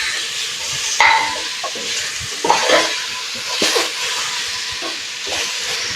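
Pork pata searing with translucent onion in a pot, loud close sizzling and hissing broken by several stirring scrapes and clatters, with no talking.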